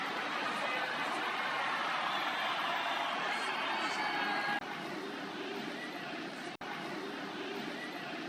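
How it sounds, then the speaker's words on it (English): Crowd cheers and roars at a Supercross race in Denver, a continuous loud wash of voices over the whine of dirt bike engines, dropping slightly partway through. "Listen to the crowd."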